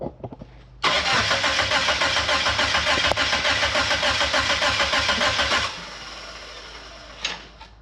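Car engine cranked with the ignition key, catching after a brief starter whir and running at a loud steady idle for about five seconds before dropping to a softer rumble.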